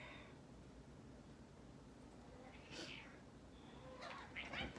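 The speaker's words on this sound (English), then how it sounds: "we're having a cat fight on camera." Cats fighting somewhere nearby, with brief yowling and hissing bursts around the middle and end over a steady background hiss, fairly faint and not close.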